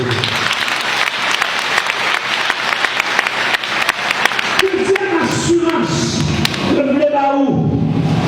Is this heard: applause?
yes